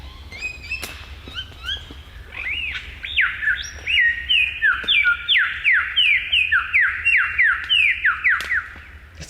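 A superb lyrebird mimics a kookaburra, starting with scattered chirps and then breaking into a loud, rhythmic run of rising and falling cackling notes close by.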